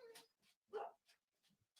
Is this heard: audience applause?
no